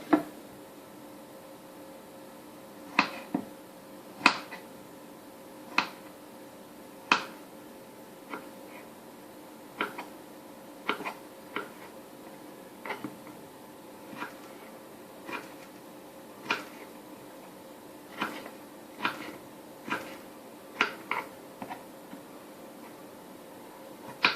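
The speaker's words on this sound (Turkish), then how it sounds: "Şimdi pancarı doğrayacağım." A knife chops beetroot on a board in a steady run of sharp, evenly spaced cuts, roughly one per second, close and clear over a quiet background with no voices.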